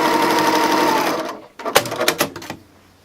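A sewing machine runs a steady, close stitching burst along a dishtowel cuff, cuts off at about 1.5 seconds, and is followed by a few sharp handling clicks as the fabric is adjusted.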